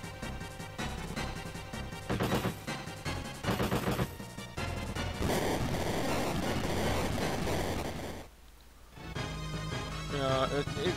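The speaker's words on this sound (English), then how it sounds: "It's not a machine gun, it's an assault rifle" Assault rifle fire in the video game Front Mission, rapid bursts of shots in clusters with music and game effects layered around them and a brief pause near the end.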